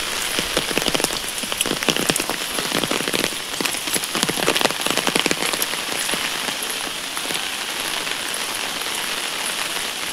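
Steady rain drums on an open umbrella held overhead, a dense continuous patter of close drops with a few heavier splatters, with no voices.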